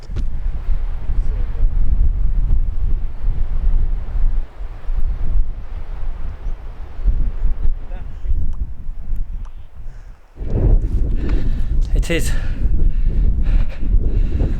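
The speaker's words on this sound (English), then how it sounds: "very windy in here" Strong wind buffets the microphone with a heavy low rumble during a hilltop walk above a Cornish village, gusting throughout as people speak briefly.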